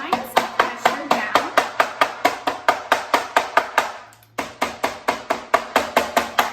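A hammer pounds plant leaves laid on paper for chlorophyll prints, a rapid, steady series of sharp, loud thuds with a brief pause before the rhythm resumes.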